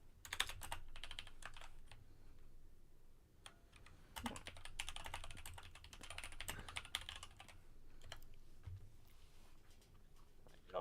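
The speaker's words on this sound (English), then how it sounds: "Not sure what Joe's typing" Computer keyboard typing in steady bursts of quick clicks and clatter, moderately close, with a low background hum and no speech.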